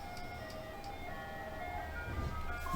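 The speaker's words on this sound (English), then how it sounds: "Fucking ice cream truck, bro" An ice cream truck plays its tinkling melodic jingle out on the block, the tune steady and moderately distant over low traffic rumble, with no talk.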